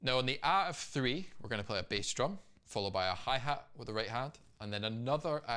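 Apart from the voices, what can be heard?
None of the usual background noises is heard.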